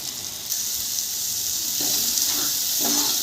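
Spring onion greens dropped into hot oil, a steady bright sizzle that holds throughout and crackles up in a few bursts as the greens are stirred, close and without talk.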